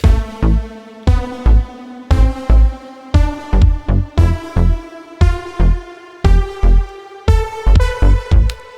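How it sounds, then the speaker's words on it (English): A synth bass line locks onto punchy kick drums in a Logic Pro remake, looping loud, clean, rhythmic pulses of thumping kicks and sustained bass notes with no voices. "notice that the bass tends to be paired with the kicks, and that gives it a real sense of rhythm"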